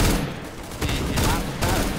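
Rapid gunfire from a Counter-Strike: Global Offensive gun race match fills the whole moment, dense repeated shots in quick bursts, loud and close.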